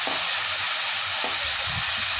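Tomatoes frying in a hot pan for a fish curry, a loud continuous hissing sizzle close up with a couple of faint knocks underneath.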